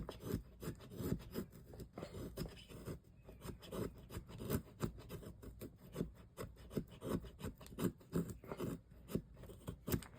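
A budget fixed-blade knife shaves and slices a piece of fatwood in a quick series of dry scraping, rasping strokes, close and distinct, each stroke a short burst with brief pauses between.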